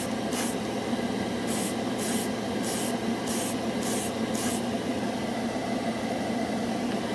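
Mr. Color Super Metallic lacquer spray paint hisses out of the can in six short bursts of about half a second each, close and fairly loud, with a steady low background hum continuing between and after the sprays.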